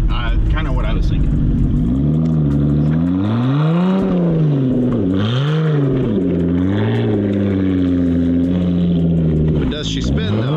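A supercar engine revving hard while stuck in a snowstorm, loud and close, its pitch rising and falling in long sweeps as the wheels spin, with a voice talking over it near the start.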